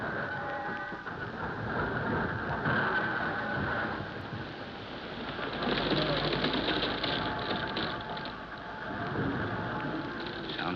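A boat engine drones steadily as a submarine tows a yacht at sea, a continuous rumbling hum that swells slightly midway.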